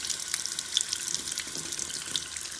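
Water runs steadily from a tap as a metal-toothed lice comb is rinsed, giving a constant bright hiss and splashing that is close and continuous, with no voices.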